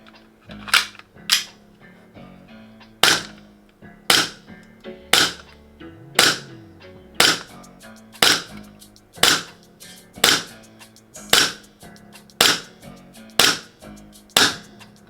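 Sig Sauer Pro Force M18 gas blowback airsoft pistol firing, a sharp, close cracking shot with a slide snap, repeated about fourteen times at a steady pace of roughly one shot per second.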